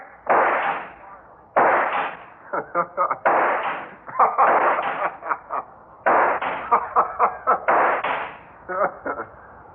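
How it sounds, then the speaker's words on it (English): Several sharp gunshots ring out in an old radio drama, a quick cluster early on and a rapid volley near the end, set between stretches of dramatic dialogue. "I hit you with every shot"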